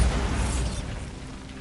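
A Bombarda blasting spell erupts in Hogwarts Legacy, a loud close boom with a rumbling low-end burst that fades quickly over the following second.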